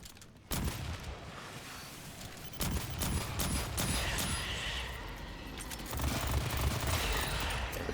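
Rapid burst-pistol fire in the sci-fi shooter game Aliens: Fireteam Elite, with dense clusters of sharp, loud shots crackling in quick succession over a steady backdrop of game noise.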